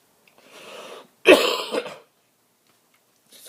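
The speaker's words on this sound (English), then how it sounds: "I got to do that cough fade again" A single harsh, throaty cough from someone with a cold bursts out close by after a softer breathy throat sound, then quiet.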